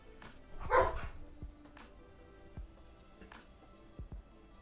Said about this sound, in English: My dog's making weird noises.